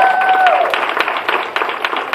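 A church congregation claps hands in a brisk, uneven burst of applause during a baptism service, sharp claps ringing out over a fading sustained organ-like tone.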